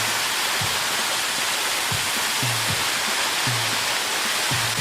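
A waterfall pours steadily down into a pool in a Mableton park in summer, a loud, dense, unbroken broadband rush heard up close with no talking.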